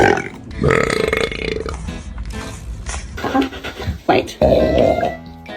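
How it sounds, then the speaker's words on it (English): A dog lets out a long, loud, guttural burp, rumbling close to the microphone, with a person's voice mixed in and reacting around it. "And he gave me a burp."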